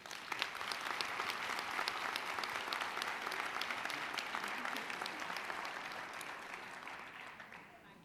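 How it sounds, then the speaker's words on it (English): Sustained applause from a commencement ceremony audience at Macomb Community College, dense and steady throughout with scattered sharper claps, easing slightly toward the end. "Please join me in applause and appreciation for their dedication and support."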